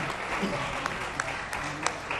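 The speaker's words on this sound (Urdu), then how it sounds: "ان کے لیے خوب تالیاں لگائیں۔" Applause from a crowd at a press conference where politicians announce a party joining, a steady, moderately distant patter of clapping hands sustained throughout.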